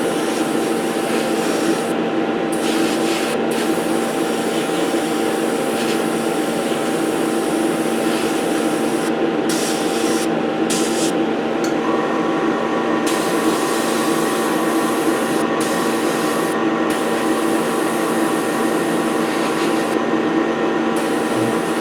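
An airbrush or spray gun lays heavier even coats of paint on a 1/72 scale model Bedford QL refueler tanker; the steady hiss and compressor drone carry on almost without a break, with a few short pauses.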